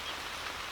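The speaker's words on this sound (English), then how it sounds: "I gotta make my way through the open field in the rain." Steady rain falls on an open field by an abandoned farm, a constant soft hiss of drops with no other sounds.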